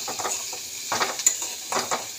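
Turmeric and chili powder fry in a pan with a low sizzle under three short bursts of stirring, with a spoon scraping and clinking against the metal, close and brief.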